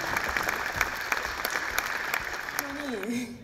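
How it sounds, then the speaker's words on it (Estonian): Applause at a school anniversary ceremony welcoming graduates back, steady clapping throughout at moderate level, with a brief tonal voice-like sound near the end. "Aplaus muidugi."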